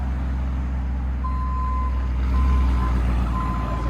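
A straight-piped RAM Power Wagon 6.4L HEMI V8 pickup idles with a deep, steady engine rumble while a reversing beeper sounds in a few long tones, close by.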